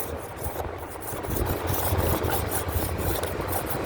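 Continuous rough rasping as a wooden stick is scraped round, steady strokes blending into a dense gritty texture, close by.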